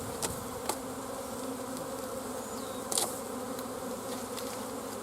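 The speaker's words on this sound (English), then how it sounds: "You can see them all buzzing around." Many honeybees buzz in a steady, dense drone close by during a nuc hive install, with occasional faint clicks and taps over the continuous hum.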